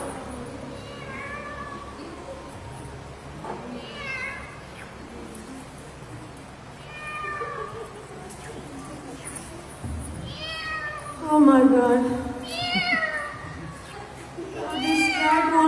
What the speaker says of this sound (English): This cat won't leave me alone.